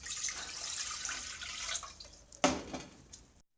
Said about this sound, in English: is add water to pot.